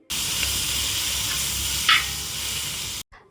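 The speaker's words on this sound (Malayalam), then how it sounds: "ഈ തക്കാളിയും കൂടെ നല്ലപോലെ വഴറ്റിയെടുക്കേണ്ട അത്ര സമയം വേണം ആ സമയം കൊണ്ട് നമ്മുടെ സവാളയും കൂടെ നല്ലപോലെ വഴറ്റി കളറൊക്കെ നല്ലപോലെ മാറി വരും" Onion and tomato sautéing in a pan for a beef curry give a loud, steady sizzle with soft stirring scrapes and one brief louder burst near the end, before the sound cuts out.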